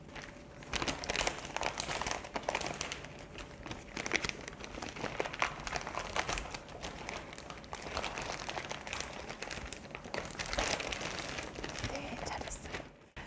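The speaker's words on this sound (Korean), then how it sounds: "남은 만두는 이대로 두면 안 되겠죠? 비닐봉지에 넣어서 냉동고에 다시 넣어줄게요." Plastic bag crinkling and rustling continuously as leftover frozen dumplings are put inside for the freezer, close and steady for several seconds.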